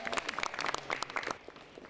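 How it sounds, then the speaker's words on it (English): Audience applause for Citizens Academy graduates, a short burst of steady clapping from a modest crowd, fairly quiet and even throughout. "It was a well-deserved applause for this group."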